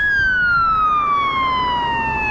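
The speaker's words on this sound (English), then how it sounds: "Look at somebody responding here big time, really quick here." A police siren wails loudly nearby on a Montreal street, its tone sliding steadily downward as it passes, over a low road rumble.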